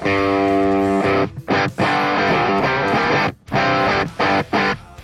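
An electric guitar played through an amp with added distortion gives a crunchy, aggressive rock tone, loud chords ringing out and then cut into choppy, stop-start bursts with short silent gaps.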